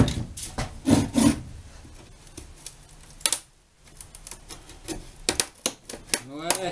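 A glued Starlink dish casing being pried open, with close scraping, creaking and sharp cracking knocks, a brief lull in the middle, and then more scraping, while someone talks at times.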